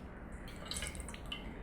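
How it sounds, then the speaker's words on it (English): Water drains from the bottom of a freshly drenched pot holding a neon pothos, a few small, close drips and trickles spaced irregularly over a soft background hush. "We have the water dripping out the bottom."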